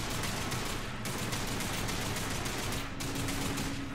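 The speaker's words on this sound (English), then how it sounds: "He just like spammed his like machine gun" Enemy machine gun fire in the video game Lost Planet 3, a dense, continuous rapid burst spraying for the full stretch with brief breaks, loud and close with no talking.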